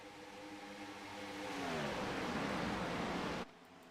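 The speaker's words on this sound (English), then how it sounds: "Oh, I missed the sound of those cars." Race cars roar past in a Gen 4 series stock-car racing video game set at Kansas, a building engine drone rising in pitch and swelling before cutting off abruptly near the end.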